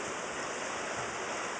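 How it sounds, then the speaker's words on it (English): Steady rain pours down on a stormy night in Florida, heard from indoors as an even, continuous hiss with no breaks throughout. "There's rain coming down. It sounds awesome."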